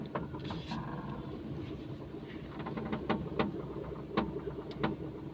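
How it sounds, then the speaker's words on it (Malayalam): A Maruti Suzuki Alto with a faulty steering, heard from inside while driving: a low engine and road hum carries repeated sharp creaking cracks and clicks at irregular intervals. "ഒരു പൊട്ടൽ പോലുള്ള ഒരു സൗണ്ട്, ക്രിക്ക് എന്നുള്ള ഒരു സൗണ്ടാണ്, ഞെരുക്കം സൗണ്ടാണ് കേൾക്കുന്നത്."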